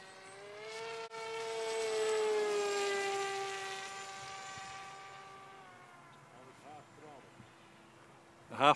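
An electric Super Sky Surfer RC model plane makes a high speed pass, its whining motor tone rising then falling in pitch as it sweeps past, with a voice speaking briefly near the end.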